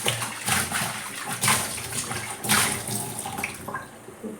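Water splashes and runs while an iron wok (kadai) is scrubbed and rinsed in a kitchen, in repeated close swishing bursts about once a second.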